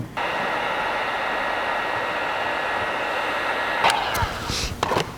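A heat gun warming taillight tint film on a Kia K, a steady close airy blowing hiss with a faint tonal whine running throughout, with a few brief rustles and clicks near the end.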